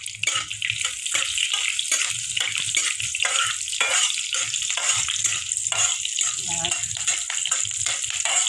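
Panch phoron and green chili sizzle in hot oil while being stirred, making a loud, crackling hiss with rhythmic pulses from the stirring that continues throughout.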